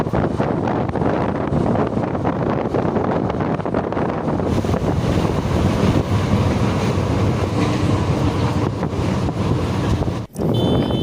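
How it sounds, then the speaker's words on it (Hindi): A Moradabad to Lalkuan passenger train runs along the track at speed, with a steady loud rumble, wind buffeting and rattling car noise that carries on without a break, then a sharp brief dip near the end. "हमारी ट्रेन 95-96 की स्पीड से चलती हुई पहुंच चुकी है अपने 5वें हॉल्ट पर"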